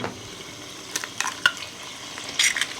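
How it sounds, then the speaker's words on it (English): Two eggs fry in hot peanut oil in a wok, giving a crackling sizzle. Sharp pops and spatters burst out irregularly over a steady hiss, loud and close, with no talking. "So the way they cook is they bubble in this hot oil."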